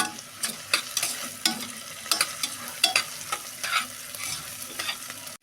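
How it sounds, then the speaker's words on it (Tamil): Three large chopped onions sizzling in hot oil for egg omelette biryani, with a steady frying hiss broken by repeated clattering stirs of a spoon against the pan. "இப்போ நான் 3 பெரிய சைஸ் வெங்காயம் கட் பண்ணி சேர்த்துருக்கேன்."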